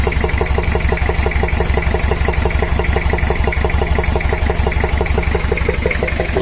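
A Toyota Kijang with a 2L diesel engine idles steadily on its own, with a rapid, even knocking from a valve fault running through the whole stretch at close range.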